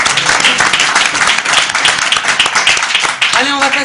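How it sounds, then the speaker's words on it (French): Loud, dense applause from a small French studio audience at a comedy talent show, continuous and close with some crowd voices mixed in, briefly interrupted near the end. "c'était des petits applaudissements, merci beaucoup"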